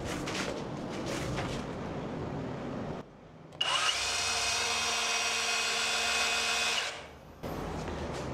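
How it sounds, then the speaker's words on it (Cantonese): An electric drill runs in one sustained, loud, steady whine for about three seconds while drilling out an aluminium window fitting, set between stretches of handling noise. "電鑽夠力咧"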